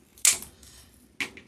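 Scissors cutting ribbon for a deco mesh wreath make two crisp, close snips about a second apart in an otherwise quiet room.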